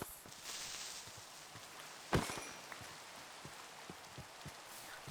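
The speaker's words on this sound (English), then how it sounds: "The rain is a nice and pleasant sound" Rain falling in a Minecraft-style video game, a soft steady patter of drops with scattered ticks and one sharper hit partway through, fairly quiet and without speech.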